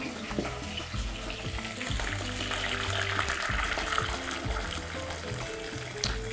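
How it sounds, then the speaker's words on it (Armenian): Boiled water pours into a pot of browned dumplings, a steady close wash of splashing and gurgling that runs on alone at moderate volume. "Ավելացնում ենք եռացրած ջուր։"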